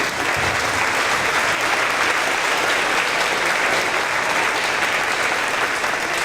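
A school audience at a fifth grade promotion ceremony gives the safety patrol members a steady round of applause, dense continuous clapping at an even level throughout with no speech over it.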